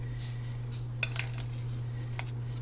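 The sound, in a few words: mixing instant potatoes and green onion with utensil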